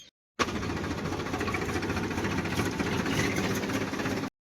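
A tractor engine running as it reverses on a village farm, a steady throbbing drone with a rapid knocking pulse, close and continuous for several seconds, starting and ending abruptly.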